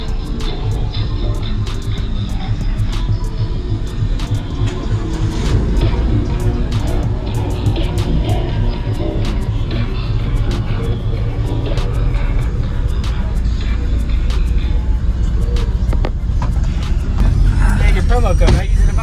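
Car audio subwoofers mounted in the back seat pound out heavy, rhythmic bass from music inside the car, loud and booming, with voices occasionally heard over it.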